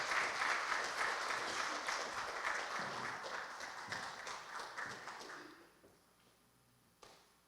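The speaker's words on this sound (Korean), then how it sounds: "박수로 환영해 주세요." A church congregation claps to welcome a couple at a Sunday service, dense applause that thins and fades out by about five seconds, followed by quiet room sounds and a single knock.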